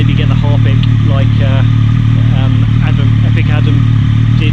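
A Triumph Street Triple 765R fitted with a Delkevic titanium exhaust idles with a steady, loud low rumble throughout, while someone talks over the engine close by.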